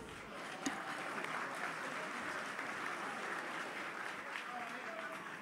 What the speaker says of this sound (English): Ladies and gentlemen, please, a round of applause for Riley Richard.